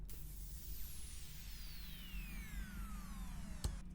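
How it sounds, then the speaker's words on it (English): Spacey electronic downer effect for an EDM transition: several synthetic tones glide steadily downward over a low droning bed, ending in a short sharp impact hit just before the close. "I like to use what's called a downer or an impact."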